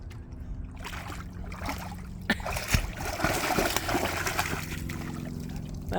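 A dog wades into water for the first time at Millersylvania State Park, with soft splashing and trickling close by over a steady low outdoor rumble, one sharper splash standing out midway.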